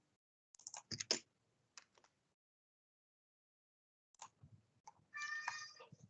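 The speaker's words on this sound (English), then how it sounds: "it was my cat. I don't know if you heard it" A house cat gives a couple of short meows, separated by quiet gaps and a few soft clicks, with no talking over them.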